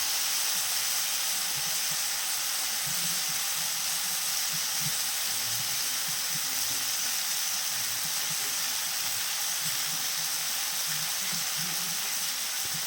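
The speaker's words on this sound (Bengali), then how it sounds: "আমি কষে নিচ্ছি বেগুন আর আলুটাকে" Eggplant and potato sautéing in a pan give a steady, continuous sizzle and hiss, with faint stirring scrapes low in the mix and no talking.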